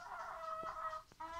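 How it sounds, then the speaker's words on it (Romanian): A hen and a bantam rooster resting in the shade make soft, drawn-out tonal calls and brief clucks, fairly faint and close, with a short pause before the calling resumes. "aici este o găină cu cocoșul pitic."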